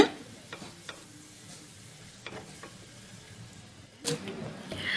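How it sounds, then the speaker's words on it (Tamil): Garlic and ginger sauté gently in a pan on low to medium flame, a faint low sizzle with occasional spatula taps and a louder scrape near the end. "இப்போது பூண்டும் இஞ்சி ரெண்டுமே வந்து நல்லா வதங்கிருச்சு"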